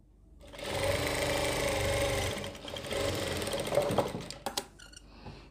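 A sewing machine stitches a shirt collar band, running in a close, steady whir for about four seconds before slowing into a few clicks and clunks as it stops.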